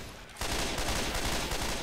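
Gunfire in Left 4 Dead 2 bursts in after a short quiet moment, dense and loud like rapid automatic shots that carry on to the end.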